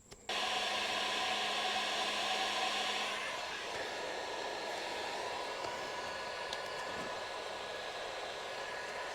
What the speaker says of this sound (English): we're gonna actually heat this up with a heat gun so that it softens up a little bit